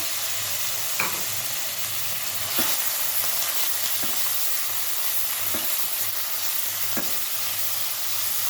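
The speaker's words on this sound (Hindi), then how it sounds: "इस दौरान ये जो हमारा बोनलेस चिकन है वो हमने इसमें शामिल कर देना है।" Boneless chicken pieces fry in oil over low-to-medium flame, a steady close sizzle and hiss throughout with a few faint clinks of stirring.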